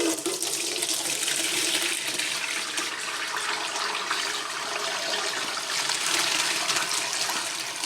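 Hot rendered bear fat pours in a steady, continuous liquid stream for several seconds, an even hissing trickle with no voices over it.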